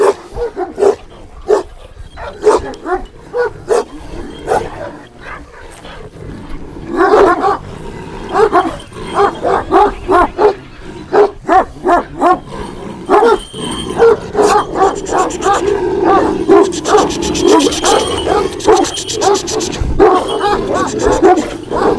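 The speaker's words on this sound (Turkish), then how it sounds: "Kangal, kangal simalı bir köpek." A Kangal-type shepherd dog from a village livestock setting barks repeatedly in sharp, close bursts, some yips and whimpers mixed in, the barking growing denser and louder toward the end.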